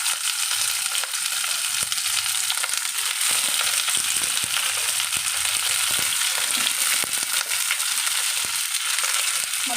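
Tomato sizzles in a pan with garlic and fried onion, producing a dense, continuous hiss and crackle close by, with occasional faint stirring scrapes and no voices.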